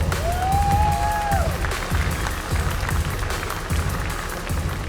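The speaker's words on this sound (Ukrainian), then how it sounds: "Ваші оплески Антону!" Crowd at a bare-knuckle fight night applauds a returning fighter, a dense, steady wash of clapping and cheering filling the hall, with a rising whistle-like tone early on.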